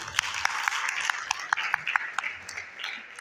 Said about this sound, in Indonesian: Tepuk tangan kepada Adinda.